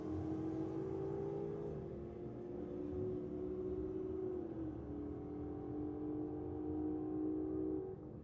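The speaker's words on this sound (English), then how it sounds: "Oh, the Ute just turning the tyres." Holden Commodore Ute at a night drag racing meet, engine roaring steadily while its tyres spin against a competitor in the next lane, a loud sustained drone with shifting revs lasting throughout and no talk.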